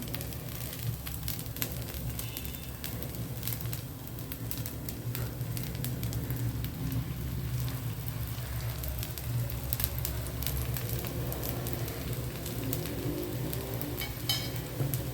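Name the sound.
bottle gourd adai frying in oil on a pan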